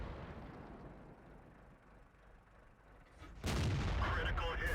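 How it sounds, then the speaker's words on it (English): Tank gun firing a gold shell in World of Tanks, a Hellcat battle on the Kaap map: after quiet battlefield ambience, a sudden loud cannon blast hits and its roar carries on to the end. "And he crits with what I believe is a gold shell."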